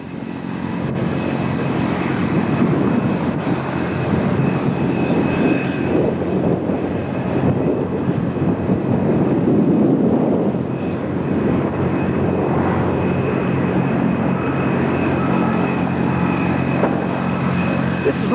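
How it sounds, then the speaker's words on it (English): Aircraft at an airfield fill the air with a loud, continuous engine and propeller drone that holds steady and nearby for the whole stretch, with slight swells and no clear talk over it. "Couldn't get any good pictures over there because all these aircraft are making too much noise."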